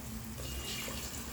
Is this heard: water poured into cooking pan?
yes